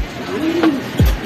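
Racing pigeons coo in a loft, two close, clear calls: a drawn-out rolling coo followed by a short, sharp, lower coo, with faint background ambience.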